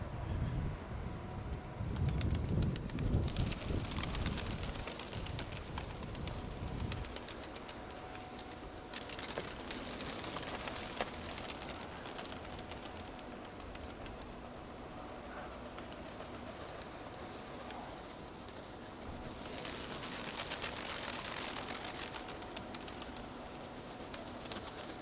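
Soft pigeon coos repeat at a distance over a low, constant background rumble, with no talking.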